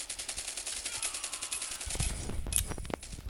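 Rapid automatic gunfire in Call of Duty, bursts of shots building toward a louder stretch of firing, heard fairly faintly without talking.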